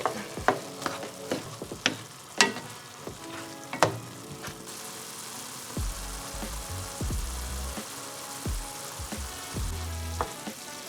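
Ground meat with Italian seasoning and pepper fries in a pan while being stirred. Sharp scraping knocks come in an uneven rhythm over a steady close sizzle that grows denser and louder partway through.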